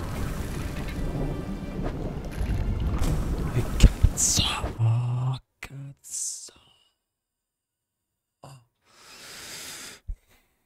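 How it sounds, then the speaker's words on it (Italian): A thunderstorm in the fishing game Dredge, with heavy rain and a loud rolling thunder crack, then sharp bursts and sudden silences as the storm effects cut in and out, with a voice speaking softly early on. "Proprio in direzione del fulmine"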